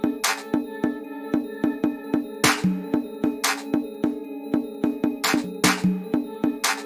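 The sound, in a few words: doubled clap samples, one with delay, in drill beat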